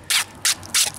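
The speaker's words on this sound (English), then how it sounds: "I just use a scraper, rip it up" A hand scraper ripping loose old coating off concrete steps in three quick, loud, rasping strokes close up, each a harsh gritty scrape separated by brief pauses.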